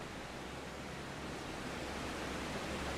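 Steady broadband rush of the Ogden River flowing, a constant close, even wash of water with no breaks or voices.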